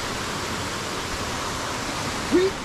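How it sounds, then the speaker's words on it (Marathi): Waterfall near Kondeshwar temple outside Pune, a continuous broadband rush of falling water, loud and close, with a brief voice near the end. "हो इथं पाणी पडतंय"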